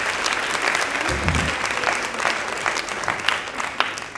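Audience at a youth debate event with leading state election candidates breaks into steady, close applause that carries at full level for about four seconds, dense with overlapping claps.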